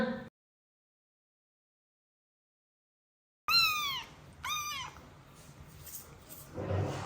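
A large-headed house cat meows twice in quick, rising calls close by after a silent stretch, followed by soft low rumbling and faint background noise.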